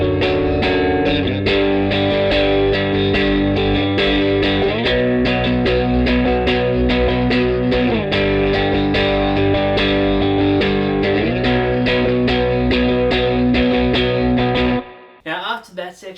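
Distorted electric guitar strums continuously in a driving, steady rhythm with dense, loud, sustained chords for about fifteen seconds, ending abruptly with a brief burst of noise.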